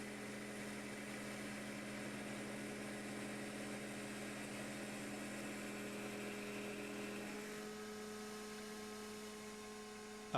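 An industrial heavy-duty tube notcher's grinding roller running, a steady mechanical hum with a constant tonal whine that shifts slightly in pitch near the end as the pipe is fed in, fairly faint with no talking.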